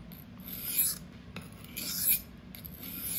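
A freehand sharpening of a REX-45 super steel knife on a whetstone, rhythmic rasping strokes repeating about three times, close and fairly quiet.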